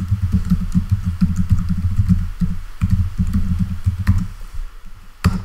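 Someone types a password on a Mac keyboard, producing close, quick muffled key clicks in an uneven run that ends with a slightly firmer final press.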